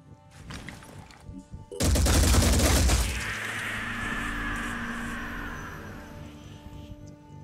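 Gunfire in the Phoenix Point strategy game: a loud, dense burst of shots erupts partway through, then fades into a sustained rumbling, ringing tail.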